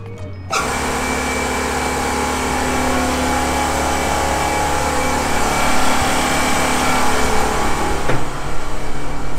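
An air compressor on an offshore work vessel starts up abruptly while filling a bottle and runs loud and steady with a constant mechanical drone and hum. A short clunk sounds near the end.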